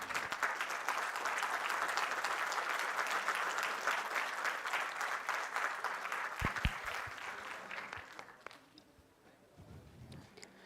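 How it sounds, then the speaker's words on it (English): Audience applause at a law school induction ceremony, a dense sustained clatter of many hands from a large crowd that holds steady for about eight seconds, then thins out and fades as it ends. "I request everyone to give a round of applause."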